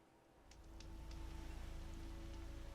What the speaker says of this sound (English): Rain stopping.